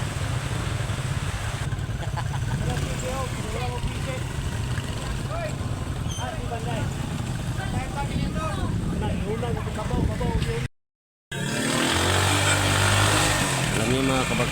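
A habal-habal motorcycle taxi engine drones steadily on the ride to Lake Maragang, close and continuous, with people talking over it and a brief dropout near the end.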